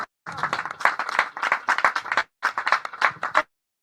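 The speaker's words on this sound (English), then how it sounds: "A round of applause." At a real estate presentation about a new estate in Ibadan, a small group claps in short, close bursts separated by brief pauses, ending abruptly into silence.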